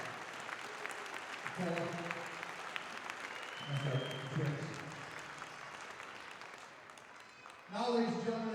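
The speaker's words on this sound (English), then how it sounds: "three wrestlers and their parents a big round of applause" A school gym crowd claps for three wrestlers and their parents at a Sparta versus Allendale wrestling meet, steady applause under an announcer's voice, with a louder burst of clapping near the end.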